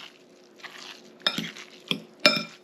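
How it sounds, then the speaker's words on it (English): Meatloaf mixture with pretzels being mixed by hand in a bowl, giving soft squelching and scraping pulses with a few sharper clinks against the bowl, close and fairly quiet. "And mix it with your hands."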